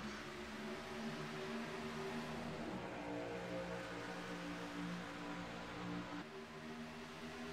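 Race cars roar at Daytona as the field gets back underway after a green flag, a dense, steady engine drone with layered tones holding loud throughout, briefly dipping near the end.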